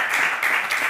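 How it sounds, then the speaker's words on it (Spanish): Steady applause from a live audience at a Spanish talk show, dense continuous clapping, fairly loud and close, with no talking over it. "un aplauso para ella"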